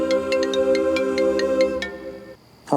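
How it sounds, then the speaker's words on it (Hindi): A mobile phone ringtone plays in a steady electronic melody with sustained tones and repeated bright chimes, fairly loud and clear, then cuts off abruptly near the end. "तुम्हारा फोन बज रहा है श्रवण।"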